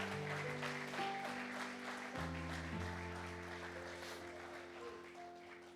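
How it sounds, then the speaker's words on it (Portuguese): A church congregation applauds over sustained keyboard chords during a Portuguese-language worship service, the clapping a soft, continuous texture beneath the louder music and fading gradually over about six seconds. "Você pode dar mais um aplauso ao Senhor Jesus?"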